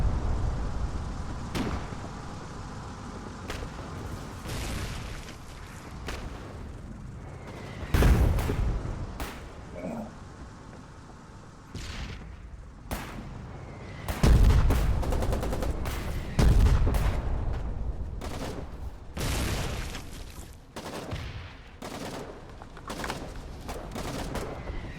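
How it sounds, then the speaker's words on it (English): Artillery and gunfire rage on a frontline in the war game Foxhole: rapid volleys of shots under repeated heavy booms, with especially loud blasts landing every few seconds amid constant crackling fire. "All this damn artillery."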